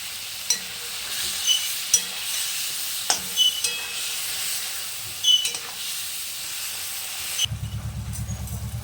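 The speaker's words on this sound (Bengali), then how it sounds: "দিয়ে ভালো করে এবার আমটাকে নাড়াবো।" Mango pieces with turmeric being stirred in a pan, quiet sizzling and hiss with scattered spatula taps and scrapes, ending in a short rhythmic pulsing rumble.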